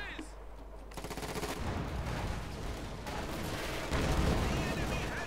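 Mortar and tank cannon fire in the World War II strategy game Company of Heroes 2, a dense, continuous barrage of explosions and gunfire with booming impacts that swell louder near the end.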